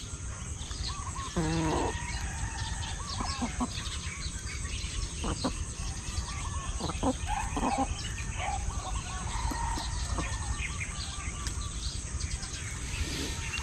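Chickens clucking near a rice paddy, with occasional close clucks and calls over a steady background of insects and outdoor noise.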